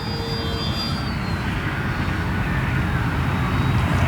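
An OMP Decathlon RC model airplane flies at about quarter throttle, its electric motor giving a steady, moderately loud whine that holds even throughout.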